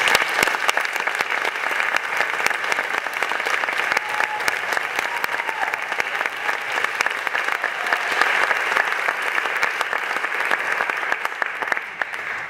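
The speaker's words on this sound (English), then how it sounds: "So one big more round of applause for all these." Sustained, dense applause from an audience at a student music concert, loud and even throughout with no talking over it.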